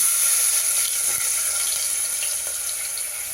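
Chopped onion drops into a hot oil tempering of mustard seeds, cumin, asafoetida and turmeric, giving a loud, close, hissing sizzle that starts at full strength and slowly eases, with no talk.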